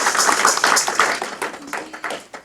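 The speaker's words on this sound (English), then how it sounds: "Can we give them a round of applause, please?" An audience claps in a steady round of applause at a Jamaican literary salon and jewelry and art exhibit, the dense claps loud and close before thinning out toward the end.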